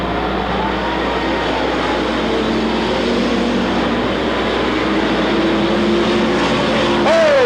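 Race cars roaring around the track at Watsonville weekly racing, a loud, continuous engine drone from several cars that holds steady and swells slightly at the end.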